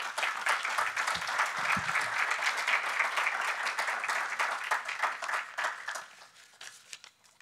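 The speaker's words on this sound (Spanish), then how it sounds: "Un fuerte aplauso para él." Applause from a conference audience at a sustainable cities forum in Panama, greeting the president of the Panama Green Building Council. Dense, steady clapping fills the room and then thins out near the end.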